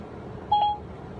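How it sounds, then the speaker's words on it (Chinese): A single short electronic beep sounds partway through, marking a phone call placed by Siri, set against a faint low hum. "正在呼叫刘敏婷。"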